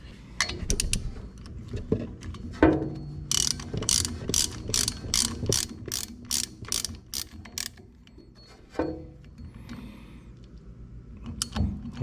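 A socket wrench ratchets in quick bursts of sharp clicking while sockets are swapped and tried on a Woodmizer BMS 250, with metallic clinks between runs, close up and loud, no talking.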